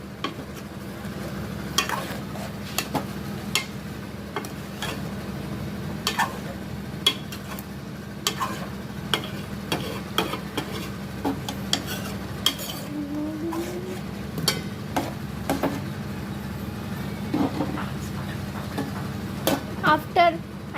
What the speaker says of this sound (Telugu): తర్వాత కలుపుకోవాలి మళ్ళీ.